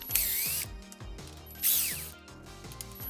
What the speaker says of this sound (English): I'm still going to go nice and slow with the screw gun